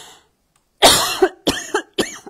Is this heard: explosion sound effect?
no